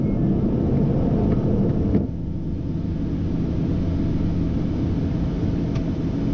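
A private jet rolls down the runway on its takeoff run, heard from inside as a steady, loud cabin rumble and roar that drops slightly partway through. No one talks over the engine noise.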